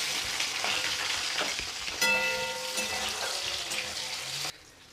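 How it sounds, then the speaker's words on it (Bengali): Chopped onions fry in hot oil with bay leaves and whole garam masala, giving a steady close sizzle throughout with a brief brighter tonal ring partway through, before the sound drops away near the end. "পেঁয়াজটা খুব সুন্দর ভাজা হয়ে গেছে"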